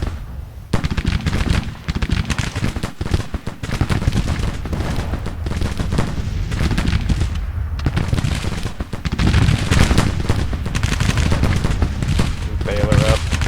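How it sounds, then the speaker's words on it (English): Musket volleys and artillery fire in Grand Tactician: The Civil War, a dense continuous crackle of rifle shots with heavier booms mixed in, loud and sustained throughout. "Doing a little bit of shooting, both sides getting their licks in."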